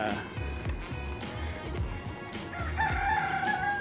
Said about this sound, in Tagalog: Mga native na manok ko.